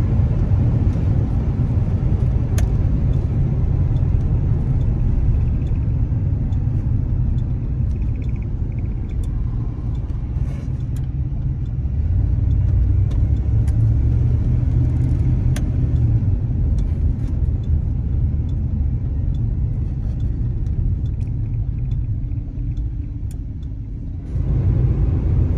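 A 1989 Ford F-250 XLT Lariat two-wheel-drive pickup cruising on a highway gives a steady, loud low rumble of engine and road noise that holds for the whole stretch, with no talking.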